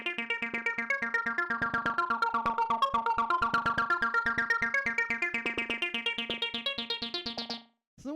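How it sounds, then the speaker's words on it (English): A 303 acid synth bassline for Detroit techno plays a fast, steady run of short, buzzy notes with shifting resonant tone, moderately loud and alone, cutting off briefly at the end. "The next sound we have here is the 303"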